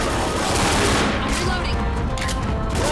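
Dense, continuous gunfire roars through the zombie shooter Left 4 Dead, rapid automatic bursts layered into a loud unbroken barrage up close.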